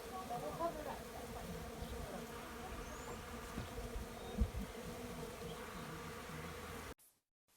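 A steady, dense buzzing of many bees hums throughout, close and continuous, with a faint thump near the end before it cuts off abruptly.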